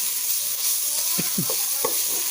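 Dry ingredients stirred and toasted in a hot pan for a Northern Thai cabbage curry, giving a steady soft hiss with a few scraping stirs of a utensil against the pan.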